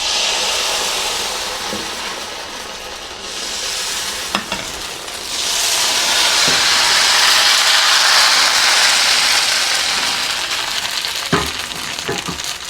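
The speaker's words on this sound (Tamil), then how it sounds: "இப்போ நான் ஆப்பம் ஊற்றி காட்டுறேன் பாருங்கள்" Appam batter poured into a hot, well-heated appam pan hisses into a steady, loud sizzle that swells midway, with a few clicks and clinks of the pan along the way.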